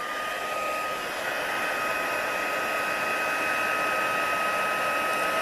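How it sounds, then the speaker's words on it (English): A heat tool blowing steadily for heat embossing on watercolour paper, a constant loud close whir with a faint steady whine, unbroken for several seconds with no talk. "oops, heat tool."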